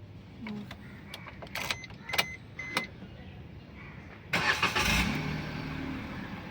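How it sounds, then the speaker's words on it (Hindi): A Maruti Alto K10 car starts on a single press of the starter, preceded by clicks and switch sounds, then the engine cranks and catches briefly before settling into a quieter idle. "हमने एक बार सेल्फ मारा और गाड़ी स्टार्ट हो गई।"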